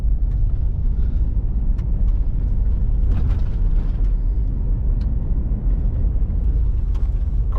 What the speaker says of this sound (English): we're still in the vehicle